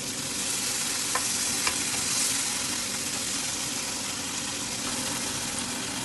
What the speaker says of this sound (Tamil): தேவையான வெள்ளத்தை ஊற்றி கொடுப்போம்